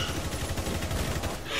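Rapid gunfire in Rainbow Six shooting through a wall, a dense run of loud, rattling shots close together, with a faint gasp.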